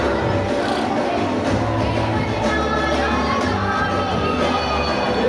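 Packed crowd noise at a Navratri garba night stays loud and constant, a blur of overlapping voices and distant shouting over steady pulsing music.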